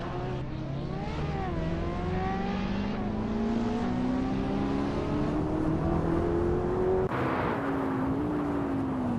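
A Ferrari F8 Tributo in a racing video game, its engine note climbing steadily as it accelerates through the gears, loud and continuous, with a brief shift dip and a surge of other cars around it.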